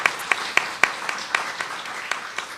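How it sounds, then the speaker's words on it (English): A modest round of applause at a women-in-communication keynote event: a few distinct, sharp claps stand out over a soft, thin patter of hands, fairly quiet overall. "Please, a round of applause"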